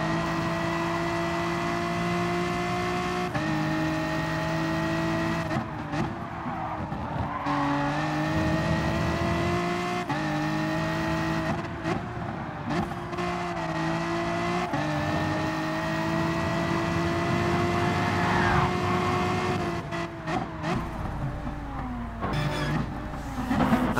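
Race cars in Gran Turismo Sport roar through a race, engines climbing and dropping through gear changes with repeated revving surges and shifts, loud and continuous, with a pack of cars heard close by and no talking.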